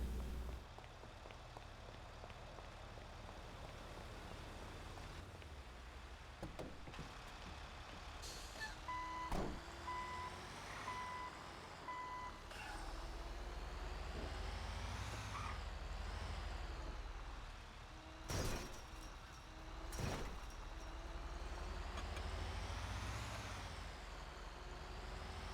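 Truck engine rumbling steadily in GTA V, with repeated reversing beeps sounding in short bursts partway through and a brief hiss like an air brake.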